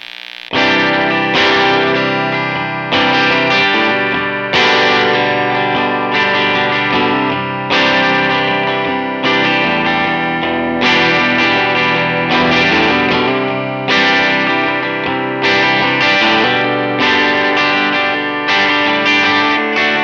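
An electric guitar plays through a single-coil pickup in reverse-polarity middle position, with dirty, distorted tone; rhythmic chords are struck in a steady repeating pattern, each ringing out, loud and alone for twenty seconds.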